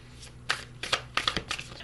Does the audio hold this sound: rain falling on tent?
no